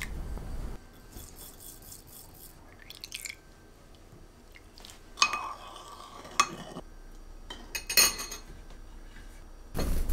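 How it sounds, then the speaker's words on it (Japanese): Soy sauce, water, sugar, vinegar, white sesame seeds and sesame oil are stirred together in a food storage container, with intermittent clinks and scraping taps against the sides in a quiet kitchen. "保存容器に調味料を混ぜます。"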